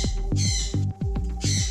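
A sun conure with a broken leg squawks loudly and close by, giving about three harsh, rasping calls in quick succession with short gaps between them.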